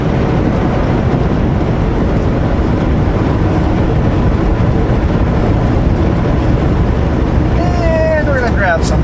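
Kenworth W900L truck with a 500hp engine, heard from inside the cab as a loud, continuous rumbling drone throughout, with a faint rising whine near the end.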